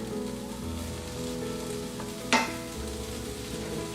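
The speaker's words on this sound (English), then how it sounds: "We have a nice sizzle, so that means it's cooking." Eggs sizzle steadily in a frying pan with a bright, crackling hiss, interrupted once by a short clack of a utensil against the pan.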